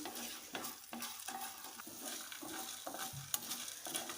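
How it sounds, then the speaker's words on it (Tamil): Masala spices roasting in a pan for Mangalorean chicken chukka, a soft sizzle broken by regular scraping stir strokes about twice a second, close but quiet with no talk. "இப்போ நாம் எடுத்து வச்சுருக்கிற மசாலா எல்லாமே போட்டு வறுத்துக்கலாம்"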